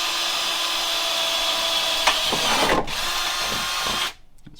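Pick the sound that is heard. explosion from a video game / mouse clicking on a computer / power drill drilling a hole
power drill drilling a hole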